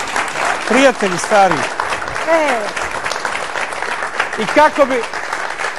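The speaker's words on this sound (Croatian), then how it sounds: "Aplauz za ovaj poljubac." Studio audience applause fills a talk-show stage, a steady broadband clatter running throughout while someone speaks over it in bursts.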